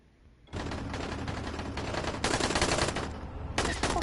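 Rapid automatic gunfire in the video game Dying Light, a dense continuous burst of shots that starts abruptly and pounds on loudly for several seconds, with a brief lull and a final burst.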